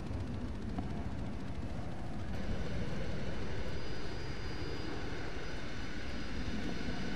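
Steady broadband jet engine roar from an aircraft in the video game Arma 3, a continuous wash of noise that swells slightly partway through and holds at a constant level with no talk.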